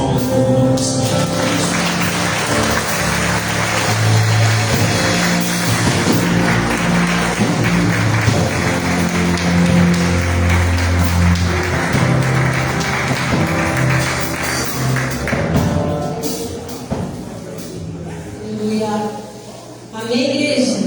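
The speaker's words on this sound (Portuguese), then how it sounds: "As palmas para o nome do Senhor" Congregation in a church service clapping together for a sustained stretch, loud and dense, with music playing underneath before the applause fades near the end.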